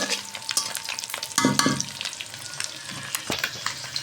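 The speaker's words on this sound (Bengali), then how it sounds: "ডিমগুলো প্রায় ভাজা হয়ে গিয়েছে" Eggs frying in a pan for a dish cooked with bottle gourd, a steady close sizzle with crackling bursts and a few scraping stirs, no voices.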